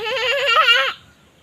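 A goat gives a single loud, close bleat lasting about a second, alone and wavering, before it cuts off into quiet.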